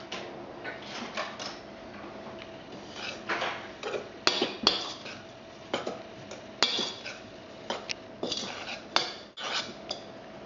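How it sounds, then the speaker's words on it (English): Flour and ground almonds are stirred together in a bowl for a Battenburg cake: quiet, irregular clinks and scrapes of a utensil against the bowl, scattered sharp taps over a soft background. "I'm just going to mix these together"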